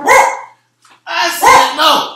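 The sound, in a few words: dog barking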